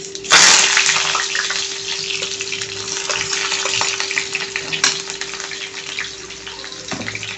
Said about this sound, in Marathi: आता आपण ह्याच्यात ॲड करणार आहे कांदा, 1 बारीक चिरलेला।